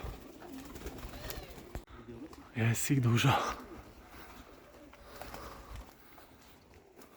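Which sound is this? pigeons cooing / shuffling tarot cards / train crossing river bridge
pigeons cooing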